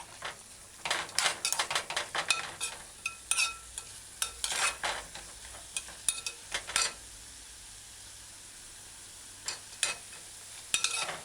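Food stirred in a pot while cooking jerk chicken pizza, with a spoon scraping and clinking in bursts of irregular strokes, close up and with no talking.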